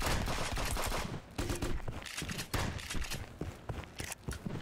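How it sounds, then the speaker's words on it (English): A turret in the shooter Friends vs Friends fires rapid, dense bursts of gunfire, with brief pauses between volleys, sounding fairly distant and soft. "Is that a fucking turret?"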